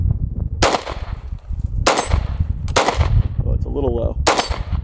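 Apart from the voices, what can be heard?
SIG pistol with Romeo 1 Pro red dot being fired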